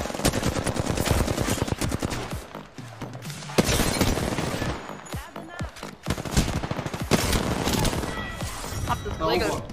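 Rapid bursts of gunfire from a Mastiff weapon crack in a video game firefight, loud dense volleys with brief gaps, while a player's voice is heard over them.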